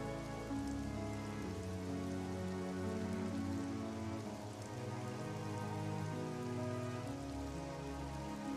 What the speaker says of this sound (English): And of course it had to be raining while all this is going on.